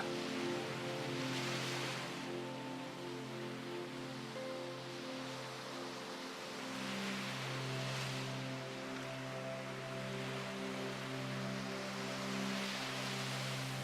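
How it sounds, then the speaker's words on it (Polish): Soft ocean waves wash in slow, gentle surges with a continuous hiss, faint and calm beneath a sustained musical drone. "Fale powoli przenoszą cię na brzeg."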